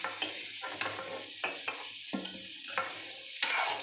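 Potatoes seasoned with salt, turmeric and sugar fry in a pan for egg biryani, giving a steady soft sizzle broken by scraping stirs and clinks of the spoon, with no talk.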